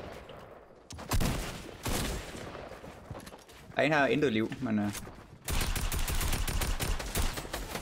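Shotgun gunfire in the video game Fortnite rings out in loud, sharp bursts that rattle over several seconds, with a player talking over parts of the gunfire.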